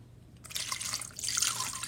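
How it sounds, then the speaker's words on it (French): Water poured into a tajine pot of meat with dried fruit before it goes on the heat, a short splashing trickle that starts after a quiet moment and swells near the end. "je vais tout de suite aller mettre de l'eau et placer le tout sur feu"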